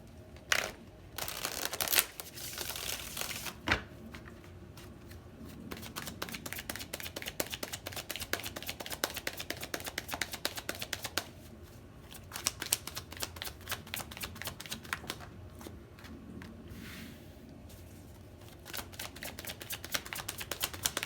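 Rapid riffling clicks of playing cards being shuffled, close and fairly quiet, in repeated bursts with short pauses between them.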